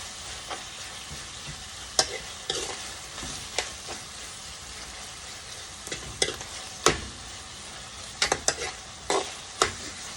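Shrimp and beef being sautéed in a pan for pansit, with a steady sizzle broken by repeated sharp scraping and clattering stirs of the spatula, close and alone without talk.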